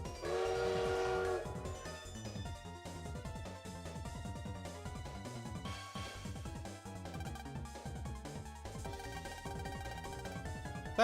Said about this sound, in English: That train's not supposed to be able to move.